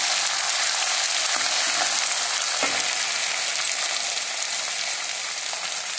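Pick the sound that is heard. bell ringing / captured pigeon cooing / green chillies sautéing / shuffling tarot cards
green chillies sautéing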